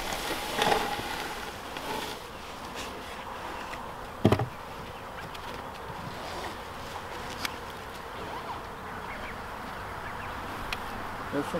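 Honeybees from a newly arrived 20,000-bee colony buzz around an active hive on a homestead, a steady low insect drone with a few louder close passes and a sharp knock partway through.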